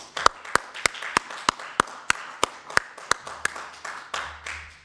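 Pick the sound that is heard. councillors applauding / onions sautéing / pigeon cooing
councillors applauding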